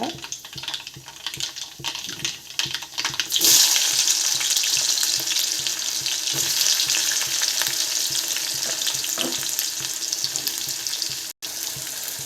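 Small onions dropped into hot oil with popped mustard seeds, bursting into a loud, steady sizzle that continues close by with occasional stirring scrapes.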